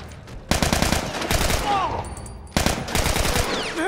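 Rifle fire in The Last of Us game, two bursts of rapid shots about two seconds apart, loud and close, with the game's ambience between them.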